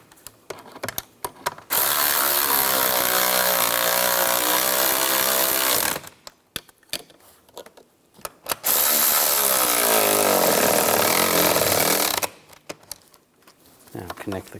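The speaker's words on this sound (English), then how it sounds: "Now put the nuts on. Tighten those down." Nuts are tightened with a ratchet while a 2000-2006 Chevrolet Tahoe seat back heater kit is replaced: two long bursts of fast, dense clicking, close and fairly loud, separated by handling noises and quiet gaps.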